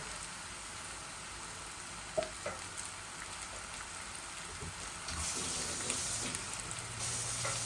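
Chicken pieces with onions, spices and achari masala frying together in a pan for Bangladeshi chicken kosha bhuna, giving a steady close sizzle that swells louder near the end, with a few stirring knocks and no talk.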